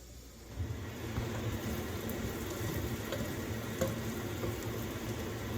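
Onions and jalapeno peppers fry in a pan, a soft continuous sizzle with a low bubbling rumble underneath, faint and steady after a quiet start, no talking.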